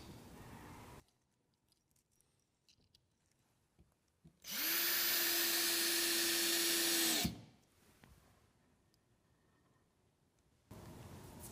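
A power drill drives 1 5/8 screws to fasten plywood to 2x4 runners for a miter saw stand, one loud steady whir lasting about three seconds between quiet stretches with faint workshop handling.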